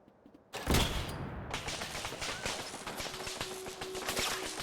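Rapid crackling zaps and clattering bursts from a Tesla gun in the Fallout 4 video game, starting abruptly after a brief quiet and running continuously, loud and dense, with a faint steady tone underneath.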